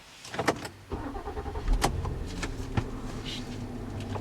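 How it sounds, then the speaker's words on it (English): The V6 EcoBoost turbo engine of a 2013 Ford Explorer Sport starts up with a short cranking burst, then settles into a steady low rumble with some faint mechanical clicks over it. "I love the way the Ecoboost sounds when it starts up"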